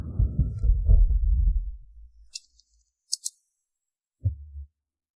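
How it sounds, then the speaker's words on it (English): A loud, heavy heartbeat thuds as a sound effect in a drama scene: a dense run of low pulses fades out, then a single deep thump lands near the end, with brief high chimes in between. "your heartbeat is too loud."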